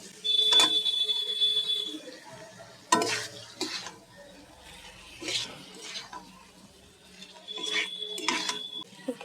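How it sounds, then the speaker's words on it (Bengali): Pieces of pointed gourd and potato fry in spiced oil in a pan. A spatula scrapes and stirs them in intermittent bursts over a soft, steady sizzle. "পটল আলুটা দিয়ে দিয়েছি, দিয়ে একটু কষিয়ে নেবো"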